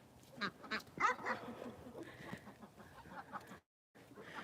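Ducks on a ranch give a handful of nasal quacks in a short, fairly near cluster, followed by softer murmuring animal sounds, with a brief drop to silence near the end.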